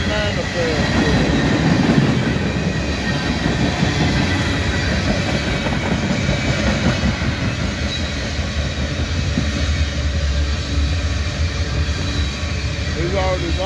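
A long CSX manifest freight train rolls steadily past up close, a loud continuous rumble of railcars with wheel noise and rattling clatter that never lets up.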